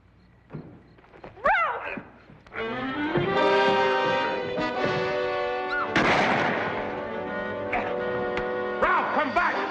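Gunshots crack a few times over swelling orchestral music in a 1957 western film, the sharp reports spaced irregularly and sitting loud in the mix.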